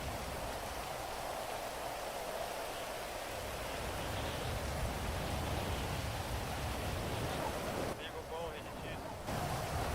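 Steady rain hisses in GTA V during a FiveM roleplay session, a dense continuous wash of noise throughout with a brief dip near the end, no voices over it.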